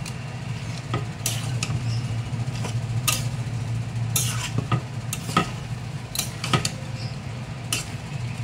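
Moong dal cooked with bottle gourd, ginger, turmeric and chili powder is stirred in a pan. A steady low sizzle runs throughout, broken by sharp, irregular scrapes and clicks of the spoon against the pan, with no voices.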